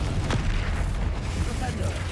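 A Confringo explosion spell goes off in a wizarding video game as a dense, rumbling burst of noise that fills the whole moment, loud and close.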